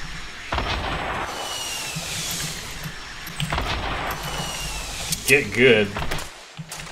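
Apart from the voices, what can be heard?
gunfire in the video game Fortnite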